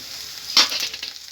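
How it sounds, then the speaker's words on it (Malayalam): Shallots and curry leaves sizzle in hot oil for a beef curry, a steady close frying hiss with a brief louder burst of crackle as they are stirred. "കറിവേപ്പില ഒന്ന് ഒന്ന് അവിടെ ഫ്രൈ ആയിക്കട്ടെ ചെറിയ ഉള്ളി നന്നായി കറിവേപ്പിലയും ഒക്കെ നന്നായി ഫ്രൈ ആയിട്ട് കേട്ടോ"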